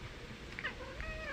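A cat gives two short, close meows over a low background rumble.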